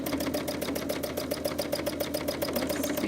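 Sewing machine stitching steadily while free-motion quilting paisley shapes along a quilt border, a fast even needle rhythm running loud and close without pause, with no talk.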